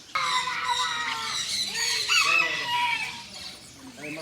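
Chickens cluck and a rooster crows near a small pond where ducks also gather, the bird calls close and layered, with voices in the background.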